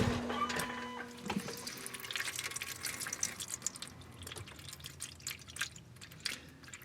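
Transmission fluid spilling from the drain standpipe of a 2019 Kia Stinger, heard close as an uneven run of drips and trickling splashes, with a faint steady hum at the start and no voices.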